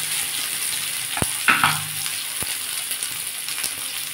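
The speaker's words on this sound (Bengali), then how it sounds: "আমি এটা একটু ভালো করে ভেজে নেব।" Sliced onions frying in a pan for an egg onion paratha, a steady close hiss with a couple of isolated clicks and a brief scrape near the middle.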